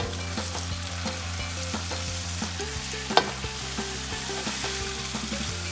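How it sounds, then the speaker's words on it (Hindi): Pieces of mutton sizzle in a pan over medium-high heat, being fried on both sides for a mutton mandi. The frying crackles steadily and up close, with one sharp tap partway through and no one talking. "मीडियम हाई हीट पे आपने इसको फ्राई करना है दोनों साइड से।"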